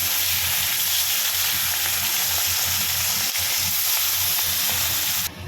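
Dry red chillies, bay leaves and whole cumin sizzle in hot oil left over from frying hilsa fish, a steady close crackling hiss that runs evenly throughout.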